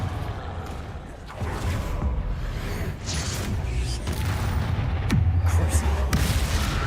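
Confringo blasting spells going off in Hogwarts Legacy, a burst of booming magical explosions with crackling impacts and a deep low rumble, loud and continuous, with another sharp blast near the end.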